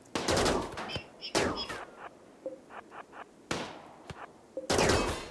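Gunfire in the video game RimWorld comes as several sharp bursts of rapid shots separated by quieter gaps, with a few single reports in between, crisp and close, with no speech.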